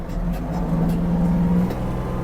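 A Kubota KL-33 compact Japanese mini tractor's engine hums steadily during a fast turn, with a rising whine partway through and some mechanical rattling, heard close with no talking.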